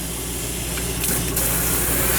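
Water hisses steadily from a pull-out faucet sprayer into a farm-style sink in a 2023 Cougar 2700BH RV, a continuous close spray with a slight brightening partway through.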